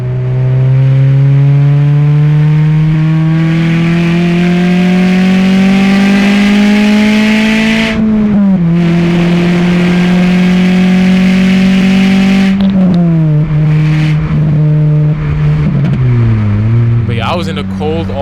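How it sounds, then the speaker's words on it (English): A Honda K24 engine revs hard through VTEC during a parkway merge, its exhaust rising in a loud, climbing howl, dipping briefly at a shift, then pulling up again through repeated sweeps heard from inside the car. "Some more VTEC."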